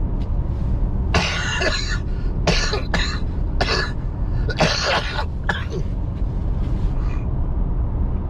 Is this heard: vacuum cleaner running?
no